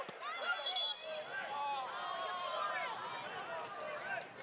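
A football stadium crowd at an A-League match between Perth Glory and Melbourne City boos and jeers after a late challenge, a steady, distant roar of many voices with whistles rising over it.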